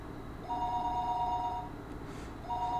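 A telephone rings on the line after a short number is dialed to a house in a remote village, with two clear rings a couple of seconds apart over faint background noise.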